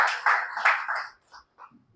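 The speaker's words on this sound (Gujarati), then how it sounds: "ભરતભાઈ માટે તાળીઓ પાડીએ." Group clapping for a man named Bharatbhai at a Vedic ashram gathering, a brief round of hand claps that fades after about a second into a few scattered sounds and near silence.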